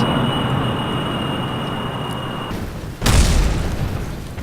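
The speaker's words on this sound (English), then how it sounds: "And then I'm going to release my rockets." Rocket boosters detach from a jet in Kerbal Space Program. A steady engine roar plays, then a sudden loud, sharp burst, followed by a heavier, fuller rushing roar that continues to the end. No voices.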